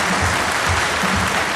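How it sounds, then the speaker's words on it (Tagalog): A crowd applauds at a political rally for federalism in Bacolod welcoming Davao Mayor Duterte, a steady dense wash of clapping filling the short moment. "Liyong palakpak lang."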